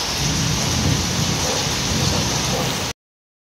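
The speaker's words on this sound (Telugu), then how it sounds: "బాగుందా చూద్దాం అంటే వాన పడుతుంది" Heavy rain pours steadily in a dense, loud, close hiss that holds evenly for about three seconds, then cuts off abruptly into silence.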